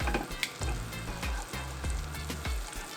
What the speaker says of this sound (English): Now it's sizzling and smells so good.